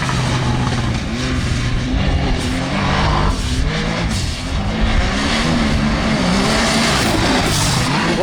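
A Can-Am Maverick R off-road vehicle driving fast, its engine roaring loud and close with a steady high rev and tire noise running throughout.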